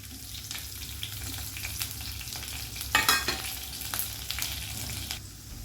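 Onion frying in a pan with tamarind over a low gas flame, a steady close sizzle with scraping stir strokes and a louder spatula clatter midway, no talking.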